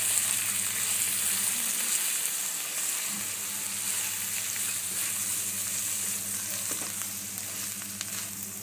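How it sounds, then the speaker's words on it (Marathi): Semolina roasting with vegetables in a pan gives a steady, faint sizzle with soft scraping of stirring, continuous and close. "चांगला भाजायचा आहे हा रवा।"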